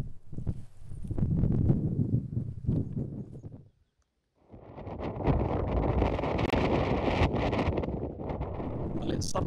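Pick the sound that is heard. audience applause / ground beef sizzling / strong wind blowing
strong wind blowing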